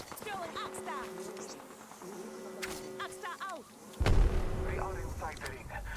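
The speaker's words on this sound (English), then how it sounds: "I hear shooting." Gunfire in the battle-royale game Apex Legends, sharp shot bursts scattered through a busy in-game mix, swelling into a louder, denser blast near the end, with game voice lines and ambient sounds layered around it.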